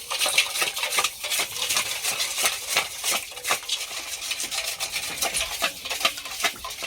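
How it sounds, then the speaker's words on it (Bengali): Yogurt being stirred with salt, sugar and white oil in a bowl, giving a steady run of scraping and clinking strokes against the bowl, close and fairly busy with no talk. "ভালো করে একটু মিশিয়ে নেব।"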